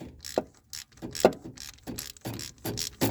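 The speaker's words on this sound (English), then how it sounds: "we'll take our socket and make sure that's nice and snug" A socket wrench ratchets in short clicking bursts as it snugs a spark plug into a 1994 Ford F150 5.8L V8, each stroke sharp and close with brief pauses between.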